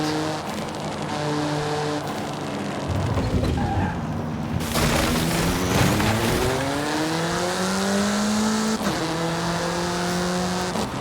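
Engine of a car driven in Forza Horizon 5, played on a Logitech G923 steering wheel, revving loud and close with rising and falling gear-shift sweeps, a brief tire squeal and a thump, and a navigation voice speaking over it.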